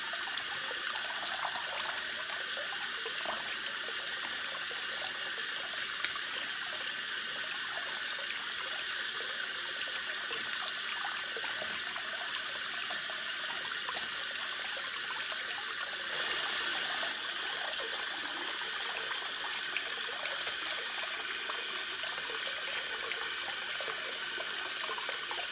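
Water runs steadily from a tap into a bath, a constant close rushing stream with no talk.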